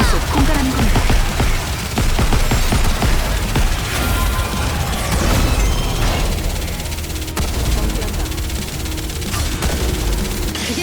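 Dense volley gunfire from a squad skill in the mobile shooter NIKKE during a boss fight, rapid overlapping shots and crashes layered with game music and effects, loud and sustained throughout.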